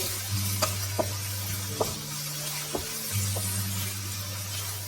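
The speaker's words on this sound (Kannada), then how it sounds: "ಇದೆಲ್ಲ ಸ್ವಲ್ಪ ಹೊತ್ತು ಬೇಯಿಸಿ. ನೋಡಿ, ಈಗ ಇದೆಲ್ಲ ಫ್ರೈ ಆಗಿದೆ." Toor dal uppittu ingredients sizzle steadily in a hot pan, with a spoon scraping and tapping through the mix every second or so, close and fairly quiet, no voices.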